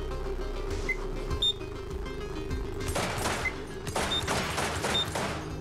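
In the video game Receiver, a turret fires bursts of gunshots, several sharp clusters of cracks arriving in uneven volleys over a low background hum, fairly faint overall.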